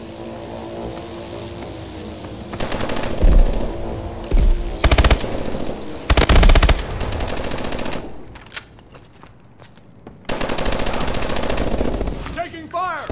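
Bursts of rapid machine gun fire and single gunshots ring out in Call of Duty: Advanced Warfare, loud and close, in several volleys separated by short lulls with engine and combat noise between.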